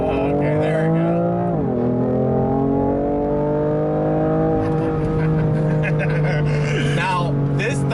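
A 2018 BMW M3 with a turbocharged engine accelerating hard, its loud rising engine note climbing steadily through the gears with a brief shift dip, heard from inside the car as people talk over it.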